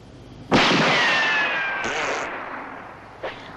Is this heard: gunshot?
yes